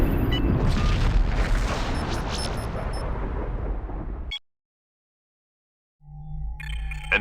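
Klingon ship blowing up in the space combat game Star Trek Legacy: a loud, sustained explosive roar lasting about four seconds, cut to silence, then a lower rumbling hum returning.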